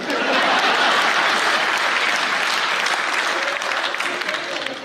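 At a kavi sammelan poetry recital, a large audience bursts into loud, dense applause that holds strong and slowly thins toward the end, with some voices mixed in.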